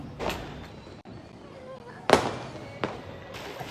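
Firecrackers crack during a home Diwali celebration, with several sharp bursts at uneven intervals, one louder than the rest, over a busy background and people talking.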